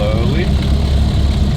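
A 1930 vintage car engine hums steadily at low revs as the clutch is slowly eased out, with a voice talking over it throughout.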